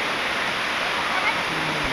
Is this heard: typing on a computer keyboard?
no